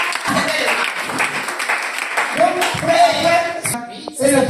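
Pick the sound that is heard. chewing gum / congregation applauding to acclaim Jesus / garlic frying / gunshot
congregation applauding to acclaim Jesus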